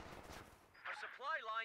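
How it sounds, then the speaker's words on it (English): Rifle grenade explosions and gunfire in the game Company of Heroes 2 come as a few quiet bursts and sharp blasts, separate from one another, in the second half. "Oh, nice rifle nade there."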